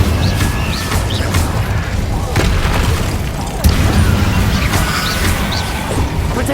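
Incendio fire spells cast in the video game Hogwarts Legacy, a dense, continuous roar of magical blasts and crackling bursts with a sharper hit midway, under ongoing combat noise.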